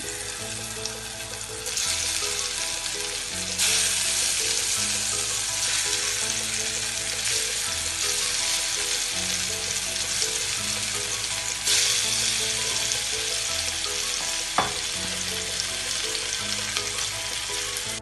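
Paneer frying in a pan over a medium flame gives a continuous loud sizzle with a crackling hiss, alone and without talk, with one sharp clink partway through.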